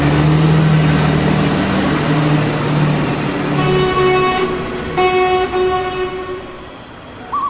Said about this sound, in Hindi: ड्राइवर बिना देर किए ट्रक को स्टार्ट करता है। इंजन गरजता है